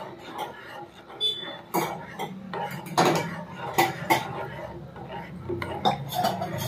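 A spoon stirs milk into a ragi malt drink, scraping and clinking against the vessel in an uneven rhythm of close, bright knocks, with people talking over it.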